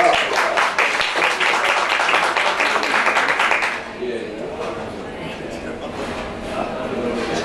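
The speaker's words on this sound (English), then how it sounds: "Let's give a big round of applause here." An audience claps for guests on stage at a club hypnosis show: a burst of steady, moderately loud applause that stops partway through, followed by quieter room sound and talking.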